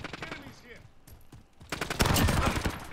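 In Call of Duty Modern Warfare, rapid bursts of gunfire build from scattered shots into a loud sustained volley, with a player's voice talking over the first half.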